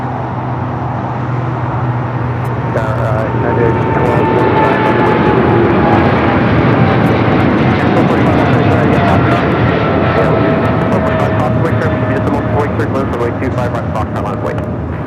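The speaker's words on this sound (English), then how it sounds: "That is Korean Air Cargo 8208 taking off to Seoul on the 777 freighter, the new updated livery." Korean Air Cargo Boeing 777 freighter taking off from LAX runway 25 left, a loud sustained jet roar with rising engine whine, heard from nearby, with people talking over it.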